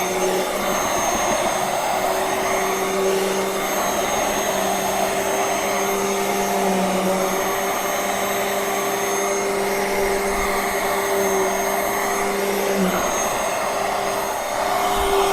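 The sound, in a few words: UWANT M100 dust mite vacuum cleaner vacuuming a sofa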